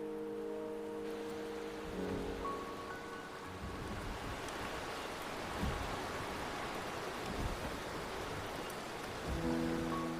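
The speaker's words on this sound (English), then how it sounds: "The rain is subsiding, and the sky will soon clear." Steady rain in the game Wuthering Waves falls and patters on surfaces, a constant hiss with soft low rumbles, alongside a few sustained tones that fade in and out.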